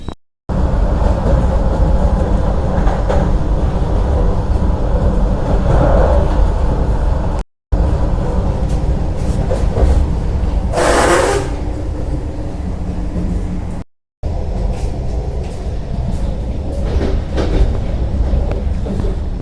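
Vande Bharat train heard from inside an executive class coach, with a loud continuous rumble and rattling, a rushing hiss that swells midway, and brief dropouts in the sound.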